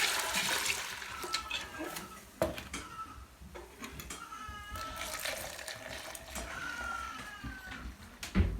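Milk for a DHI herd test poured back and forth between containers several times to mix the butterfat and protein, a continuous splashing, gurgling liquid stream with clinks of the vessels, close and fairly loud, no talking.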